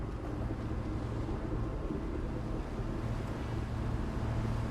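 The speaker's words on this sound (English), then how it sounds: "See our engines pumping out there." Steady diesel engines of a boat running in the survival crafting game The Last Caretaker, a continuous broad rumble with wind-like noise and no pauses.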